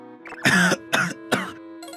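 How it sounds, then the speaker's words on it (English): Three harsh, close coughs in quick succession, each a short rough burst, with quiet gaps between them and no speech. "I choke and cough."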